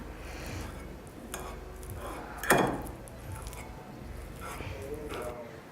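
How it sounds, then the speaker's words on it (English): Peeled banana pieces being mashed in a bowl, heard as soft squishy presses and light scrapes, with one sharper clink of utensil on the bowl, all fairly quiet beneath a person talking. "So I'm just going to start mashing the banana."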